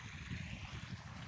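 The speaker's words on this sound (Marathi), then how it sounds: "हे बोरचं पाणी चाललंय" Borewell water flows steadily into a maize field, a continuous low rushing and gurgling that is fairly faint and steady throughout, with no voices.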